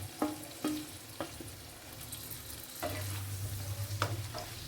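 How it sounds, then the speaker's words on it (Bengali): Chopped tomatoes added to capsicum fry in a pan, with a few sharp spoon taps and scrapes over a quiet sizzle that swells and grows more bubbly in the second half. "2 মিনিট ক্যাপসিকামটা ভেজে নেওয়ার পরে কুচিয়ে রাখা টমেটোটা আমি এর মধ্যে দিয়ে দিচ্ছি।"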